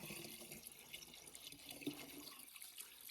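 Liquid garden spray solution is poured into a bucket for spring orchard pest treatment, making a continuous splashing, gurgling stream that churns the liquid nearby.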